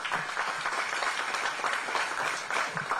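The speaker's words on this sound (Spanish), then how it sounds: "y eso merece un aplauso" Crowd at an outdoor inauguration event for the El Limón race in Samaná applauds, a steady, moderately loud wash of clapping lasting a few seconds with faint voices mixed in.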